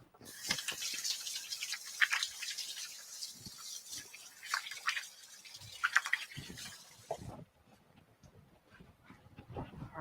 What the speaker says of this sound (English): let me just wash my hand again since I was messing with the mic